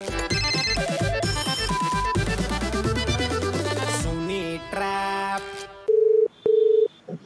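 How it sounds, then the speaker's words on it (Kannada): A phone call being placed: a melodic caller tune plays steadily, then two long, even ringback tones sound close and clear, with no talking. "ಬನ್ನಿ ಕಾಲ್ ಮಾಡುವ ಸುಮಾ ಅವ್ರಿಗೆ."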